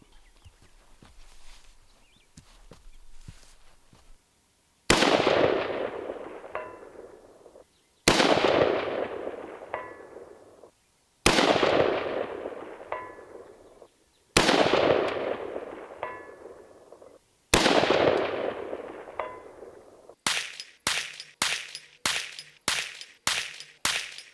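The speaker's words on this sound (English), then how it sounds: "we're going to shoot this 450-yard target down here." Five sharp, loud rifle shots from a folding rifle at a 450-yard target, spaced a few seconds apart, each with a long echoing tail, followed by a quicker burst of seven shots.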